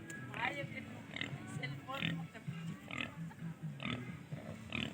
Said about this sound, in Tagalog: Yan, may mga pig.